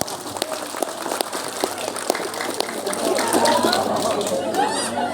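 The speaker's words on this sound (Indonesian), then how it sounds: "Tepuk tangan dulu lah." A crowd of listeners claps at an Islamic children's storytelling session, a dense patter of many hands that swells louder toward the end, with some talk mixed in.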